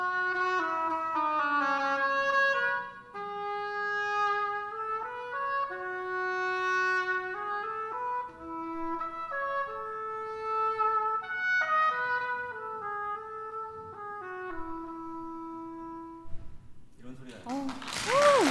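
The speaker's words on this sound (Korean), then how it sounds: "이제 더 따뜻한 오보의 다모레라는 악기입니다" An oboe d'amore plays a slow, warm melodic line of sustained notes and gentle phrases, close and clear, with a short noisy burst at the very end.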